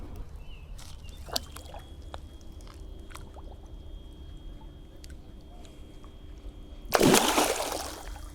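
A pike slips back into a river with a sudden close splash and slosh near the end, following quiet water ambience and small scattered knocks from the boat.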